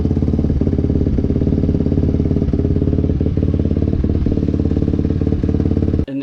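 A refreshed Kawasaki KLX250R dirt bike idles close by, a loud, steady, even thumping single-cylinder chug with faint mechanical clatter, cutting off abruptly near the end.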